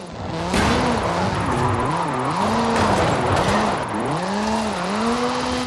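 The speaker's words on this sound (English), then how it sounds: "This is Mr. Kenneth Block's Hoonigan Gymkhana 10 Ford Focus RS RX. 2-litre, turbocharged, front-mounted engine and all-wheel drive." The 2-litre turbocharged all-wheel-drive Hoonigan Gymkhana 10 Ford Focus RS RX in Forza Horizon 5 revs hard, its engine note swooping up and down in rapid rhythmic surges as it drifts, loud and close throughout.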